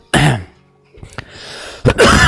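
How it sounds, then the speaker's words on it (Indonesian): A person coughs sharply up close, a harsh burst, then after a pause a couple of smaller throat-clearing coughs and another forceful cough. "Mohon maaf ya, saya sedikit batuk."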